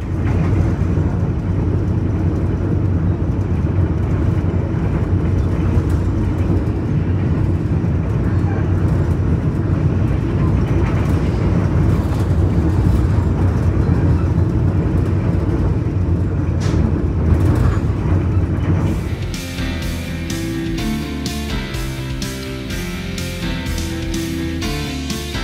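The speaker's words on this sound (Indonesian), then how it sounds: "sekarang ini kereta api Arjuna Express melintas di stasiun Wonokromo" Arjuna Express passenger train running through Wonokromo station on the Surabaya line, a loud steady rumble of wheels and carriage heard from on board, shifting partway through to a rhythmic, clattering tone.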